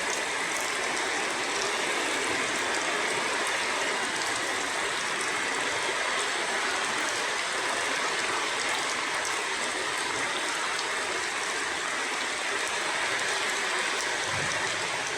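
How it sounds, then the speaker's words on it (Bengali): Heavy rain pouring down in Rangpur, a dense steady broadband hiss that holds unbroken and loud for the whole stretch, with no voices over it. "আমাদের এখানে প্রচণ্ড বৃষ্টি হচ্ছে, একদম ধোঁয়ার মতন"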